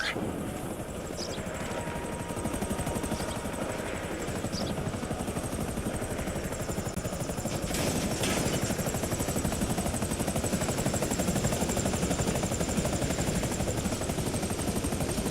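A helicopter in the video game GTA Online, with a steady, loud rotor chop and engine whine that continues throughout, close and dominant with no speech over it.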